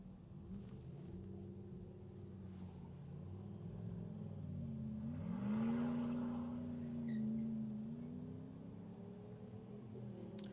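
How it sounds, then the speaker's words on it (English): Loud exhaust of Mopar cars passing at night on a Detroit street, a deep engine rumble swelling to a peak mid-way then easing off, heard from inside a moving car over its steady road drone. "One day they'll realize that no one cares how loud their exhaust is."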